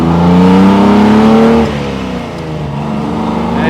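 A 1957 AC Ace Bristol's engine revs hard while driving on twisty roads, a loud, close, rich exhaust note climbing in pitch then easing off into a steadier drone.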